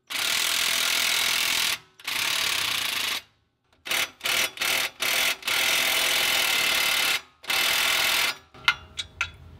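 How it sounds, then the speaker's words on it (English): Ratchet wrench tightening the bolts of a PMF dual steering stabilizer on a 2017-2019 Ford F250, heard as several long bursts of rapid close clicking broken by short pauses and a few quick single strokes at the end. "We're gonna ratchet these down till they're snug."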